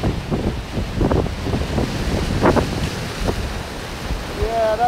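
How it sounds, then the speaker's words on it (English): Ocean waves break on the shore in repeated surging bursts with a washing, hissing rush, close and fairly loud, accompanied by gusty wind buffeting the microphone. "Ah, it's a good wave, it's a good wave."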